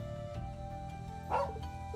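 A dog in the video game Trails of Cold Steel II gives a single short bark near the end, heard over a soft, steady game background.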